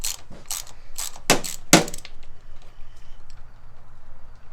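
A ratchet loosens fasteners on a sprint car, giving a few quick clicking bursts up close followed by a couple of sharper metallic clanks, then a quiet tail.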